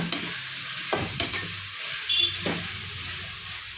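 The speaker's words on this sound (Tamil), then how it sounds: "இது தக்காளி நல்லா வதங்கணும்." Tomatoes sautéing in a pan for mutton chukka, a steady frying sizzle with a few scraping stirs of the spoon, close and alone.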